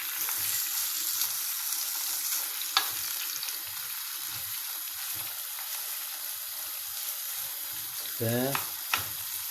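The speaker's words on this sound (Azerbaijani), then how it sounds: "ətimiz deməli yağda pişir" Meat sizzles steadily in melted oil in a pan for a macaroni dish, a continuous close frying hiss under someone speaking, with a brief stir or clatter near the end.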